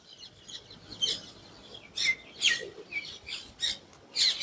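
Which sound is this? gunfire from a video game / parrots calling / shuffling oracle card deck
parrots calling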